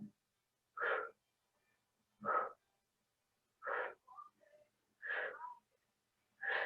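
Slow exercise breathing during a rocking floor movement, with distinct, close inhales and exhales spaced about a second apart, quiet and alone, with a few softer breath noises between.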